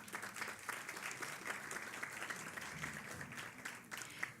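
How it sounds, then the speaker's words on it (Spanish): A faint, distant burst of applause fills the hall at a Spanish-language electoral justice panel as a panelist is introduced, and it stays fairly steady throughout. "Un aplauso, por favor."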